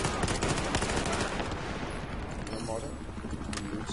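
Rapid UMP submachine gun bursts in Battlefield 4 crackle through a dense, loud game battle mix, with voices talking over the gunfire.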